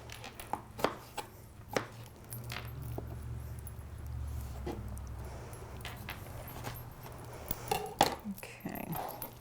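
Knife chopping fresh tomato on a cutting board in a home kitchen, a handful of sharp irregular cuts spread across the clip over a low steady hum, with faint clinks of utensils nearby.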